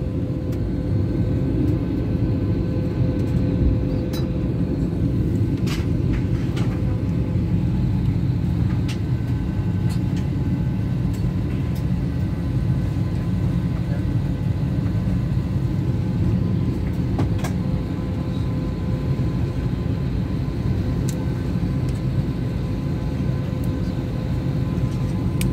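Aircraft engines at Riyadh airport give a steady, loud, broadband rumble that holds for the whole stretch. A few faint clicks and knocks sit on top, with no talking.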